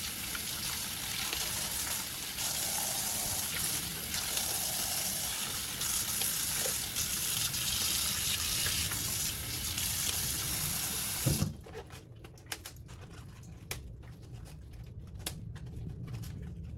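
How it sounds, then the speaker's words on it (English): Tap water runs steadily into a sink as baby bok choy and other greens are rinsed under it, a full, constant splashing rush that cuts off near the end, leaving scattered drips and light handling knocks. "Wash the greens, and there's a baby bok choy in the fridge, so I'll wash that too."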